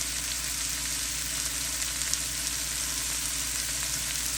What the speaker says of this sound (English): I'm stir frying them up in some olive oil